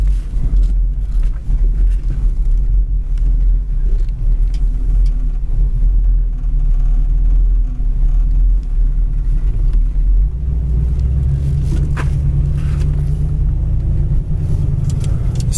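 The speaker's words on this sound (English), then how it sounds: "Dual exhaust sounds really nice also." A 1964 Chevy Chevelle Malibu with dual exhaust cruising on the road, its engine giving a loud, steady low rumble heard from inside the car, deepening slightly toward the end.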